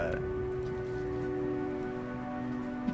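Heavy rain in the video game Rain World hisses steadily over a low, sustained musical drone, a continuous wash of downpour without pauses.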